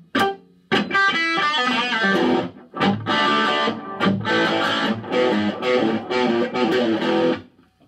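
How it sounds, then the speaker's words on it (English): An Ibanez electric guitar through an Ibanez Jet Driver distortion pedal plays chunky strummed chords and short phrases, loud and gritty, with brief pauses between bursts. "Let's add the distortion pedal and see what happens."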